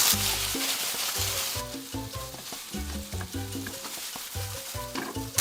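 Pork slices and lotus root sizzle steadily in a frying pan for a sweet-and-sour stir-fry, a loud, even hiss that continues throughout with background music playing under it.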